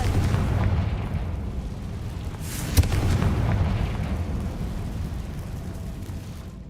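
A Confringo fire spell bursts in the Hogwarts Legacy video game, heard as a short sharp blast about midway through a steady low rumbling din, with no talking.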